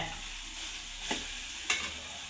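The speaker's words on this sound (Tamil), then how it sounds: "தக்காளி சேர்த்து நல்லா வதக்குங்க" Tomatoes sauté in a pan for potato masala to go with puri, giving a soft continuous sizzle with two brief scrapes of a stirring spoon.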